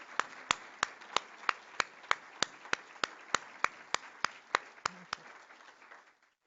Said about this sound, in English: would you please humor an old lady and give them a round of applause